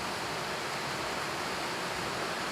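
Creek water rushing far below a high drop in the Lost Creek Wilderness along Goose Creek Trail, a steady, broad distant roar with no break and no voices.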